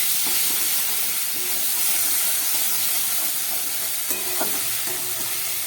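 Fish curry with green chillies fries in a pan, giving a steady, loud hiss and sizzle throughout, with faint occasional clinks of stirring and no talk.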